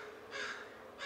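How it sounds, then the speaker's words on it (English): Crows cawing outdoors on a foggy October morning by a porch, two harsh calls at a moderate distance, separated by a short pause, over a faint steady background hiss. "You might hear the crows,"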